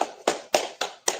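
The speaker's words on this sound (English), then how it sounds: "Go ahead, clap it up." A church congregation at a Sabbath service claps in a steady rhythm of five sharp, loud, evenly spaced claps, heard up close with no talking over them.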